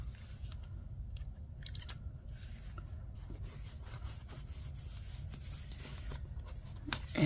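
Close, quiet scissors snipping and rubbing through excess paper in a steady series of small cuts over a low background hum.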